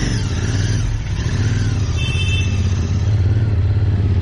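A Royal Enfield Interceptor 650 motorcycle pulls away in first gear, its engine a steady, close, low drone with slight clatter throughout.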